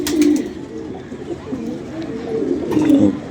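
A caught pigeon coos close by in soft, throaty repeated rolls, with a little rustling in between.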